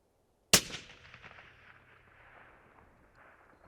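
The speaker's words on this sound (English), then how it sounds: "Shooting." A rifle fires one sharp, loud shot at a long-range target about 0.8 miles away, the crack trailing into a long rolling echo that fades over several seconds.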